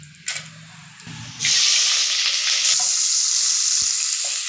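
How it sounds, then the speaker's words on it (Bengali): Potatoes frying until crisp in a pan of hot oil for a home Sunday meal, a loud steady sizzle rising suddenly after a few soft clatters and continuing strongly to the end. "ওনাকে একটু আলুগুলো ভেজে দিচ্ছি আমি কড়া কড়া করে"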